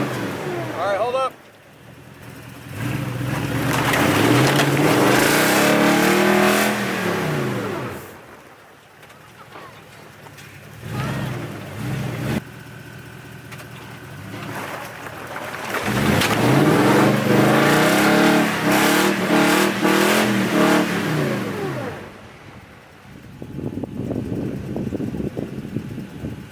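An SUV engine revs hard at full throttle in deep snow, with two long loud roaring bursts separated by quieter idle stretches and a lighter rev at the end, and voices talking at times.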